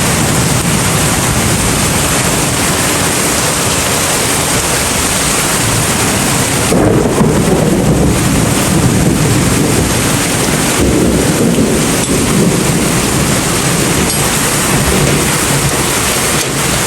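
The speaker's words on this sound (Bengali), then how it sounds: "শুধু বিদ্যুৎ চমকাচ্ছে আর বৃষ্টি" Heavy rain pours in a dense, continuous roar during a thunderstorm, with low rumbling thunder swelling midway and again later; no voices are heard.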